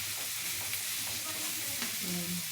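Bitter gourd and onion fry over high heat in a pan, giving a quiet, even sizzle with light stirring scrapes, brief and fairly soft.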